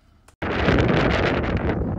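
Strong wind buffets the microphone on a Pacific Crest Trail hike, a loud, roaring gusty rush that starts suddenly after a short quiet moment and continues steadily, with a brief spoken word at the start.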